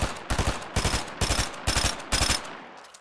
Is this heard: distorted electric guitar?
no